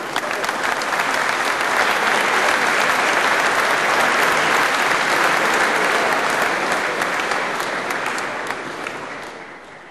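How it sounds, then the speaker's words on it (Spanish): Audience at a gala bursts into loud, sustained applause, a dense wall of clapping that holds steady for several seconds before fading toward the end. "Y ahora pido un fuerte aplauso"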